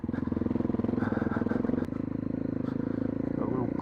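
Torquey adventure motorcycle engine pulling slowly in second gear on a bush ridge trail, a throbbing low-rev rumble with short pulses and a brief lull, close and steady, with no talk over it.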